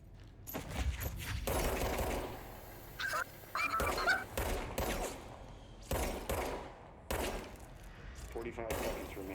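Rapid video game gunfire at targets on a timed shooting course, bursts of sharp shots in several clusters with short gaps, close and loud, with an announcer's voice between some of the bursts.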